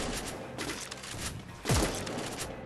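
Rapid bursts of gunfire from the video game Free Fire crackle in quick succession, with a sharp thump partway through, over the game's ambient sound.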